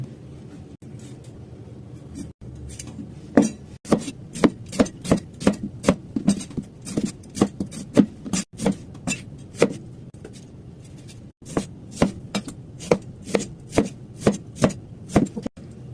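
A knife dices a tomato rhythmically on a board, dozens of crisp close thuds in quick uneven bursts, with no talking.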